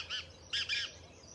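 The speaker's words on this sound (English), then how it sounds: "There are cackling birds back there. Not sure if you heard them. We have this screeching one here." A bird screeches three times in quick succession, harsh and high-pitched, fairly distant over a quiet background.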